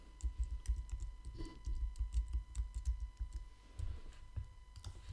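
Quiet computer keyboard keystrokes tap in an uneven rhythm, soft and close, with faint clicks spread across a few seconds.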